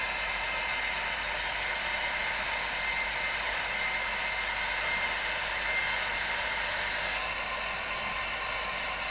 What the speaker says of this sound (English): Let me just get the hairdryer on this.